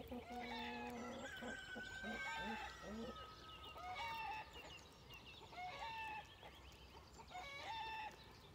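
A small hen receiving health care gives repeated soft clucks and rising squawks, close by and fairly faint, accompanied by other chicken calls in a quiet rural setting.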